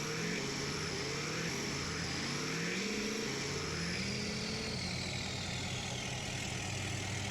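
A heavy truck engine revs in a rising, falling drone with shifting pitch sweeps, steady and moderately loud throughout at a truck challenge event.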